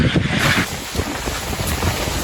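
Loud, blustery wind and rain gusts buffet the microphone during a storm in Recanati, Marche, Italy, with a rushing, roaring texture outdoors.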